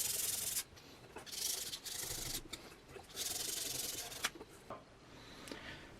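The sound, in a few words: quick rub with sandpaper on speaker part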